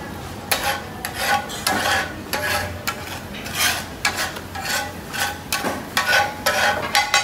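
Pav bhaji is stirred with cooking oil in a pan in India, giving loud, close, rhythmic bursts of metal scraping and clanking over a low sizzle, repeating every second or so.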